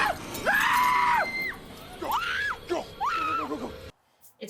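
Three long, loud screams from a man, each rising and wavering, with short breaks between, ending abruptly in near silence.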